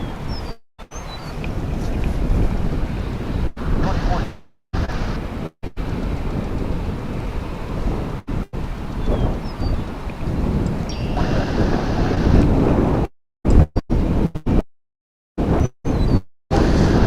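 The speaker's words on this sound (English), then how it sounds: "That is, of course, a Dreamliner aircraft, 787 or 9." Broad, rumbling jet roar from a Boeing 787 Dreamliner passing at DFW Airport, heavy and continuous with wind noise, broken by several abrupt dropouts.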